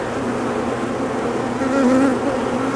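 Honey bees buzzing steadily and close during a hive inspection, a dense continuous drone of many insects with no voices.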